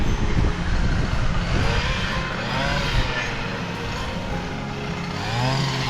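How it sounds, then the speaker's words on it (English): A string trimmer runs during canal restoration work, its engine whining and rising and falling in pitch at moderate distance, mixed with outdoor noise and people talking nearby. "Oh, it's a strimmer."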